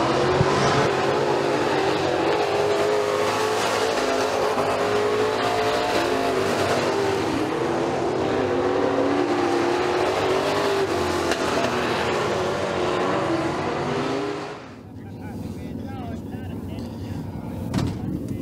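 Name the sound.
street stock race cars racing down the back straightaway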